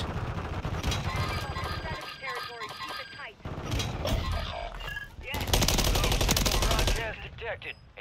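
Bursts of automatic fire from an MTZ-762 rifle in Warzone Fortune's Keep Resurgence, rapid sustained volleys broken by short pauses, loud and close, with game effects and occasional chatter underneath.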